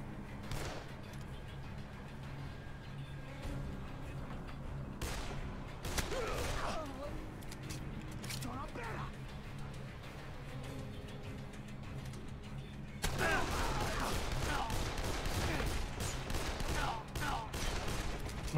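Scattered gunshots ring out in the zombie video game Dead Island, with intermittent sharp cracks over a steady background rumble that grows louder and busier near the end.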